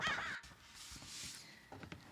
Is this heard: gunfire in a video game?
no